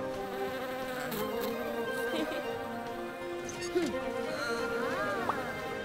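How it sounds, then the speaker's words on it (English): A cartoon bee buzzes with a steady, whiny drone that wavers in pitch, sitting under a busy backdrop of music and voices throughout. "a friendly little bee!"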